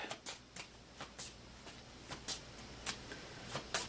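A deck of dilemma cards from the Astro Knights Eternity board game being shuffled by hand, a string of crisp, close riffling snaps and soft flicks repeating irregularly with no talk.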